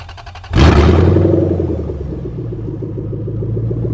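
A V8 engine fitted in a GAZ-24 Volga cranks briefly, then fires up with a sudden loud roar and settles into a deep, rumbling idle close by, with no talking.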